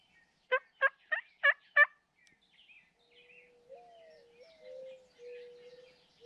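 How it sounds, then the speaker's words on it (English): A Rio Grande wild turkey in Kansas spring woods gobbles, a fast run of about five loud rattling calls within roughly two seconds, followed by softer calls and faint birdsong in the background. "I just heard a loud gobble"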